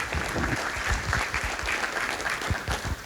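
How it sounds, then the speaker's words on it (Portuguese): An event audience at a Brazilian property registry officers' conference claps for judiciary guests, a full, continuous round of applause from a sizable crowd that holds steady for a few seconds without speech. "uma salva de palmas para todas as pessoas que com certeza agregam o nosso evento"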